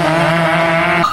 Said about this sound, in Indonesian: suara ngebacot mesin 2 tak yang khas